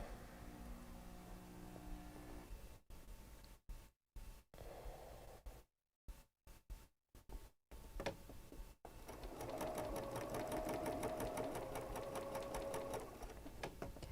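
A sewing machine stitches a quilt block, running in short bursts separated by pauses and then in a longer continuous whirring stretch, close and fairly quiet, with no talking.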